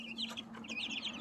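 Chickens in a brooder cluck and chirp softly nearby, a quick cluster of short bright calls over a faint steady hum.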